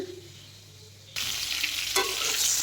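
Whole pointed gourds (potol) frying in oil in a pan, a quiet lull then a loud, steady sizzle with stirring noises, no voices.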